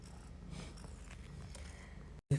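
A domestic cat purrs softly and steadily up close in an indoor setting, a low rhythmic rumble that lasts about two seconds before a short gap and a louder bump.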